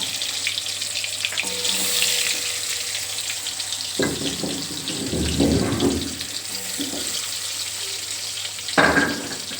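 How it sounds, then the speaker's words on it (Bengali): Pumpkin pieces fry in oil in a wok, a soft continuous sizzle broken by a few louder splashing, clattering bursts; no voices. "তো রান্না করব হচ্ছে যে আগে আমি কুমড়োটা ভেজে নেবো আজকে।"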